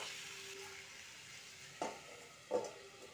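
Grated taro cooks quietly with salt and turmeric in a pan, a faint low sizzle broken by two soft scraping stirs near the end, close and without voices.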